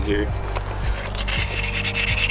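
Steady scratchy rubbing of 220 grit waterproof sandpaper over a car wheel before spray painting, close and continuous with rhythmic back-and-forth strokes; a brief spoken word is heard.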